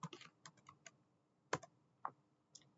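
Keys clack on a computer keyboard while editing a shell script in the vi editor on Ubuntu, a quick run of soft taps followed by a few louder isolated key presses.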